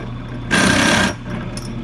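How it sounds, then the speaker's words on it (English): Drill countersinking a tobacco pipe shank, a short buzzing whir of about half a second close up over a steady low background hum, no speech. "So then what you're gonna do is you're just gonna countersink it just ever so slightly."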